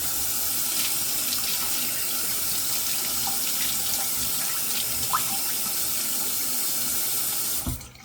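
Water runs steadily from a tap into a sink for a rinse, a continuous hiss and splash holding at a fairly loud level before cutting off abruptly near the end.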